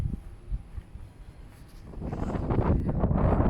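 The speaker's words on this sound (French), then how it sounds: "Trop de vent, désolé." Strong wind buffets a microphone on a blustery outing in Normandy, a low rumbling roar that swells louder and denser over the last half, with no voices.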